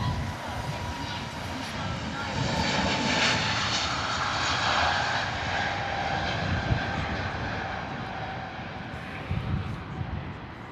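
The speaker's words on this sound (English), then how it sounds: "Gorgeous departure." Airliner departing Heathrow, a broad steady jet engine roar holding strong across the whole stretch with a faint tonal whine, while voices talk quietly beneath it.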